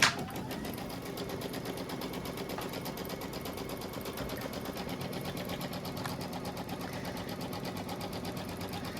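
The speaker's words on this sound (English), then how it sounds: "I feel like my machine is stitching slow" A home embroidery machine stitching a placement line for a quilted bench pillow block, a steady rapid needle clatter running continuously and close.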